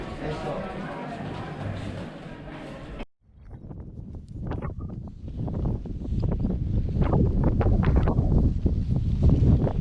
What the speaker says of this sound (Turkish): Acayip bir rüzgar var.